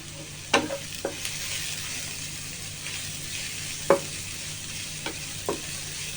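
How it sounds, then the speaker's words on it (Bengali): Onion stirred and fried in a pan for an egg curry: a soft steady sizzle broken by a few sharp scrapes and knocks of the spoon, with no talking. "একটু নেড়ে চেড়ে পেঁয়াজটা যখন নরম হয়ে আসবে তখনই মশলাগুলো দিয়ে দেব।"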